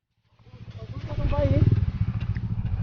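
A nearby motorcycle engine starts up and settles into a steady, throbbing putter, with a voice briefly audible over it.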